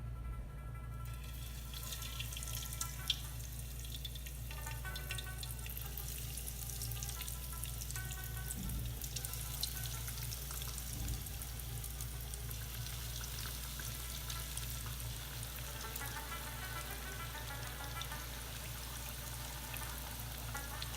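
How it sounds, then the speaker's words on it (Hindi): Fish frying in hot oil, a steady close sizzle and crackle running continuously with no talk, alongside faint watery clinks. "गरम ऑयल में मछली को एहतियात से डाल दें।"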